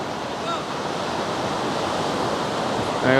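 Morning sea surf washes onto the shore in a steady broadband roar, with a brief swell of louder noise near the end; no talking.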